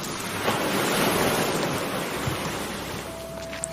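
Sea waves wash onto a seashore at night, a continuous rushing surf with a gentle swell and a windy hiss, steady and fairly loud with no voices.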